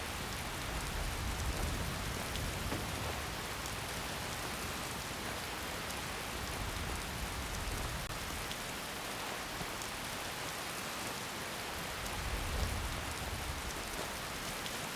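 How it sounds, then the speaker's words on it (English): Steady heavy rain falling on surfaces, a dense continuous hiss with no voices, constant and fairly close throughout. "Looks like rain."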